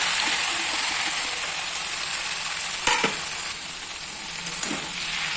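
Ash gourd hits a pan of sizzling spiced masala for an ilish fish-head ghonto, a loud continuous frying hiss with a sharp clatter as it drops in and a few later scrapes.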